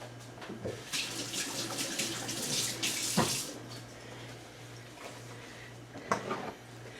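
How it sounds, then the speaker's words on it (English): Water runs steadily from a kitchen tap while hands are rinsed beneath it, a continuous splashing rush with brief surges and a low hum underneath, no talking. "Let me just rinse my hands."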